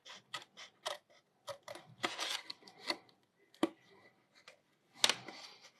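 Scissors snip through a paper tab while a pop-up card is made, a close, quiet run of short crisp cuts and rustles in an irregular rhythm with small pauses.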